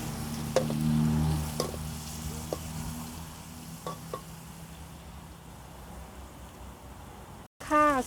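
Tofu stir-fried in a pan while braising chicken wings, giving a steady low sizzle with a few clinks of a utensil, fading toward the end and followed by a brief louder noise.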